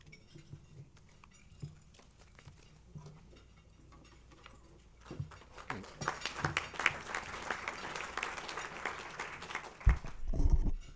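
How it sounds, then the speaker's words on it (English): An audience at a Manatee Tiger Bay panel on Florida election law applauds as a speaker is welcomed to the podium. The room is quiet and scattered at first, then clapping swells into a full, fairly close round that builds toward the end. "Thank you for the applause."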